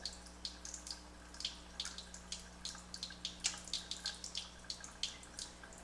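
Water from a Microlite Jupiter water ionizer pours into a small vial, a quiet trickling stream with rhythmic splashy pulses over a low steady machine hum.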